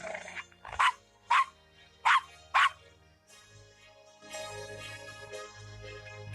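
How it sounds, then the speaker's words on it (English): Dog barking in the point-and-click adventure game Gabriel Knight: Sins of the Fathers, four sharp, evenly spaced barks close up, followed by quiet room tone and a low background hum. "Nice doggy."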